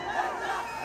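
A crowd at a mall event cheers loudly in a short, dense burst of massed voices, with no clear single speaker heard.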